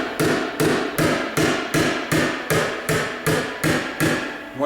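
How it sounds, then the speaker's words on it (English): Ten firm, evenly spaced hammer strikes tapping down a dent ridge in the body panel of a 2006 BMW 325i, each a sharp metallic tap with a short ringing decay, close and loud. "as I tap that ridge down, I'm going to push it along that dent"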